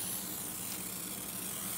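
Spray bottle misting the side of a baking dish during baking prep, a steady close hiss that runs unbroken from start to finish with no talk.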